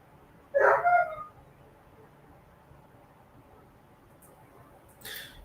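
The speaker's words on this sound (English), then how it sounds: "I think that's a dog. I think someone's dog is back here" A dog barks outdoors somewhere behind the speaker, one loud doubled bark early, then a fainter yip near the end over quiet background.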